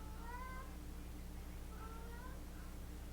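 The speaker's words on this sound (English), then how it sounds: "Please ignore my cat." A female cat in heat meows twice in drawn-out, rising calls at moderate distance, each about half a second long, over a steady low hum in an indoor room.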